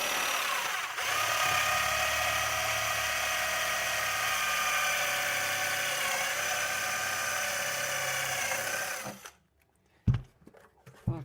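Electric drill boring into a touch computer, a loud sustained high whine for about nine seconds close up, then stopping abruptly, followed by a few knocks and rattles.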